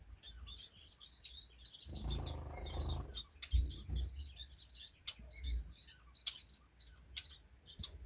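Small chirps and tweets from chestnut-breasted mannikins, a finch-like bird with a lighter chest, repeating in soft scattered bursts against low background rumble and a brief noisy stretch.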